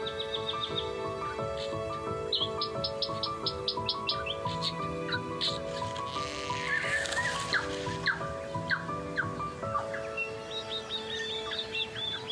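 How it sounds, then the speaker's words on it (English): Dense dawn chorus on Little Barrier Island, New Zealand: dozens of bird species sing at once, with repeated whistles, trills and chirps layered over each other, loud and continuous throughout. "Morning on Little Barrier Island is a time of hectic activity and almost deafening song from dozens of bird species."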